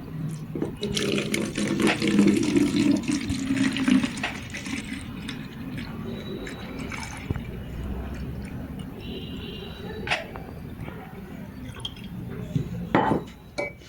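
A homemade hair mixture is poured from a container into a spray bottle, giving a steady liquid trickle and splash for several seconds, followed by quieter handling clatter and a few sharp plastic knocks.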